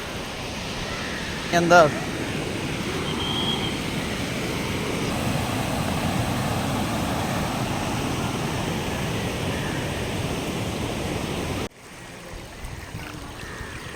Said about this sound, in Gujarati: તમને ખરખર નીરનો અવાજ પણ આવી રહ્યો છે.